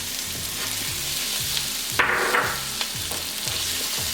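Pork in a pan with ketchup, rice vinegar and brown sugar being gently stirred, a steady sizzle with a soft rhythmic scrape of the spoon and a brief louder stir midway, no talk.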